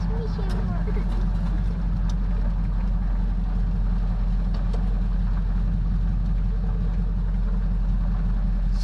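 A 1976 Chevrolet C10 squarebody pickup idles with a slight miss, its steady low rumble running continuously and fairly close, with a faint uneven stumble in the rhythm.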